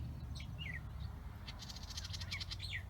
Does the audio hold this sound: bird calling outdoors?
yes